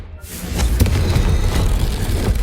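A Confringo fire spell blast in the Hogwarts Legacy video game, a heavy explosive boom right after a brief silence, followed by a sustained loud rumbling roar that continues to the end.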